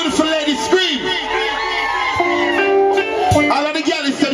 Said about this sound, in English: Our beautiful ladies scream.